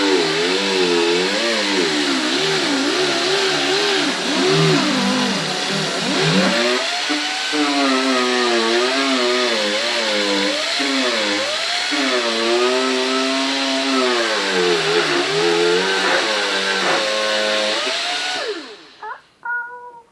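Continuous high whining drone of a power grinder working on a part for a 1969 Mercedes 280SL, wavering in pitch under load for nearly twenty seconds, loud and close, then winding down.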